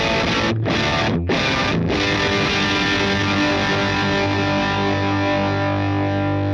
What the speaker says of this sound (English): It's almost like a fuzz.